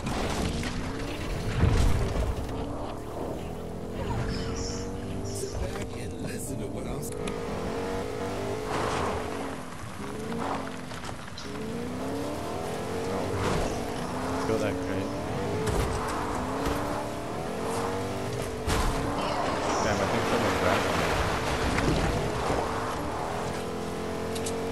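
A truck engine in Fortnite runs continuously, droning and revving as it drives, with bumps and thuds scattered over the steady motor noise.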